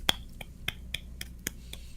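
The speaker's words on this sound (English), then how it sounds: "Let me clap for you right now." A single person claps in a steady, brisk rhythm, about eight sharp, close claps in two seconds, with no talking.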